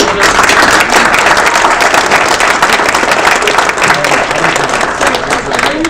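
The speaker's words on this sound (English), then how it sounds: "let's give a round of applause to our" Loud, sustained applause fills the room at a green stormwater infrastructure and transportation workshop, a thick wash of many hands clapping together for nearly six seconds, fading slightly toward the end.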